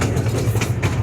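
A small tourist train at Travel Town rides along its rails with a steady low rumble and faint rhythmic clacking, heard close from aboard, with no talk.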